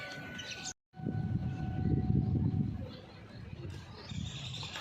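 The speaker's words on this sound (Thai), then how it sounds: "อันนี้รถไฟมาแล้วครับรถไฟรางคู่กำลังมา" A double-track train rumbles steadily close by as it approaches Hua Mak station in Bangkok, with a low rolling roar of wheels on rails and faint high tones, briefly cut by a moment of silence.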